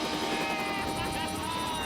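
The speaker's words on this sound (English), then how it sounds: "helicopters in position and ready for the test" Helicopters positioned for a test on MythBusters make a steady, loud rotor roar with a fast, fluttering chop that runs throughout.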